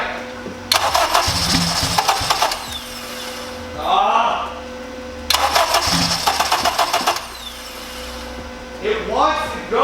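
Turbo 8th-gen Honda Civic engine cranks in two long bursts of rapid starter churning that sputter toward catching, with short pauses and brief talking between attempts.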